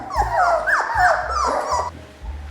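Mini F1 Irish Doodle puppies from a litter of twelve whimper and yip close by in a run of high, wavering cries that overlap and then trail off.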